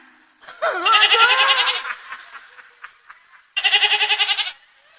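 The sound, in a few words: goat bleating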